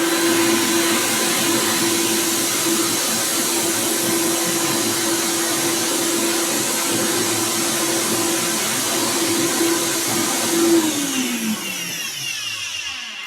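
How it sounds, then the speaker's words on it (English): A kitchen blender's motor whirs loudly and steadily for about ten seconds, then spins down with a falling whine as it is switched off near the end. "So the blender's now on."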